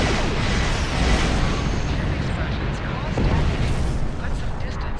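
Starships blow up in Star Trek Online space combat, a loud rumbling roar of blasts and booms running on without a break, with a voice talking underneath.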